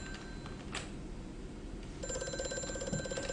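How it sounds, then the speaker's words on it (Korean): A telephone starts ringing indoors partway through, a bright repeating electronic trill that grows louder over a quiet room, with a brief whoosh just before it. "전화 왔다"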